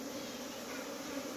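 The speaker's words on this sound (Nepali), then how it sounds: "अब बिस्तारै मौरी चाहिँ त्यही घारमा जान्छ" Honey bees from an escaped swarm being coaxed into a hive: a steady, dense buzzing drone that holds at an even level throughout, close by, with no talking.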